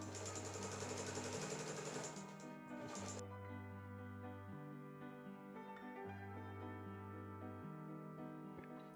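A sewing machine set to its longest stitch runs through thick fabric with strong thread in short, steady bursts, its rhythmic whirring clatter starting and stopping several times, close and clear with no talking.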